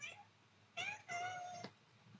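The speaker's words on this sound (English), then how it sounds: "an annoying cat just arrives" Cat meowing nearby indoors, one short meow followed by a longer drawn-out wail, fairly faint, alone without talk.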